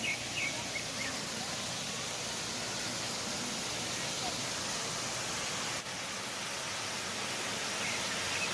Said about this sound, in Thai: น้ำตกพลานทอง อุทยานแห่งชาติภูผาม่าน